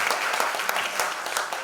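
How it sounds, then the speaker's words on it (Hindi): Audience applause at a children's singing competition grand finale in Mumbai, a dense, steady burst of many hands clapping that holds at an even level throughout. "इस पर तालियों वाली फुहार कीजिए"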